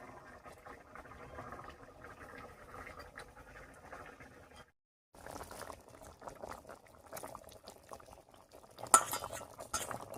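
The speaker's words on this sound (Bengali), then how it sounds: "রান্নায় বলক উঠে গেছে।" Shol fish curry with potato, eggplant and stems boiling in a pot as fried fish and cumin-coriander paste are added: quiet, steady bubbling and patter, a short silent break, then more bubbling and a sharp utensil clink near the end.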